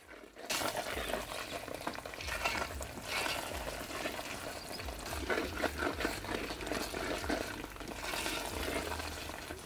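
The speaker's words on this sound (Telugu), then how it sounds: "ఇప్పటికి నేను 40 నిమిషాల నుంచి ఇలా కలుపుతూనే ఉన్నానండి." Ash gourd halwa stirred steadily in a pan as it thickens, a continuous soft scraping and bubbling texture with repeated spoon strokes, moderately loud and close, with no talking.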